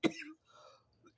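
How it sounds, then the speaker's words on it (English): A single short cough or throat-clear bursts out up close, followed by a quieter, breathy trailing sound and near silence. "I had to excuse some of the coughing on here."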